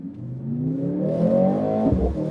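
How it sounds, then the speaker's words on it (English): A 2023 Mercedes-AMG C63 S E-Performance hybrid engine starts up and revs from inside the car, a loud rising hum with whirring harmonics and a brief clatter near the end. "maybe we can turn on the engine"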